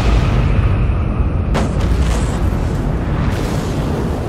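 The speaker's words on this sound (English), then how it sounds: "I detonated each drone's thermonuclear explosive" Thermonuclear explosions of several drones in a sci-fi audio drama, a loud sustained roar of rumbling blasts with deep low-end weight and a sharp burst near the middle, continuous without pauses.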